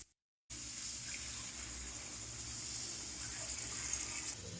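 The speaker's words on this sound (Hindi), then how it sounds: "अब हम इसमें पानी ऐड करेंगे।" A glass of water poured into a pan of spicy egg masala curry: a steady, hissing, rushing stream that runs without a break after a brief silence at the start.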